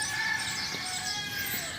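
Hens cluck faintly and steadily in a home yard as they are gathered, a continuous low chatter of fowl with no voices over it.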